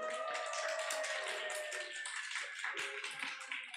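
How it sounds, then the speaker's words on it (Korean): Children clap together at a church elementary service, a dense, quick patter of small hands sustained for a few seconds at moderate volume. "박수 한번 보내줄까요?"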